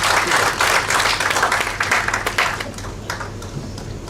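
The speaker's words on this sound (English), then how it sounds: "Please give her a huge round of applause." An audience at an international conference at an institute applauds with dense, steady clapping that starts loud and eases slightly as it goes on.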